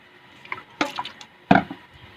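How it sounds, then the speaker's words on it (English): Water poured into a plastic spray bottle already holding a little glycerine, heard as two short close splashy bursts of liquid, the second louder, in a quiet room. "fill it up around 1/6, and then put in water"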